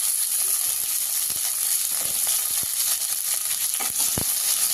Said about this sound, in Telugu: ఇందులో పచ్చిమిర్చి వేసుకున్నా. హాఫ్ గరిటె నిండా ఆయిల్ తీసుకున్నా.